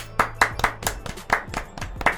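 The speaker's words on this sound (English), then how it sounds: "So everybody, applause." A lone person claps for about two seconds, around nine sharp hand claps at an uneven, quick pace, close and dry, on a podcast interview.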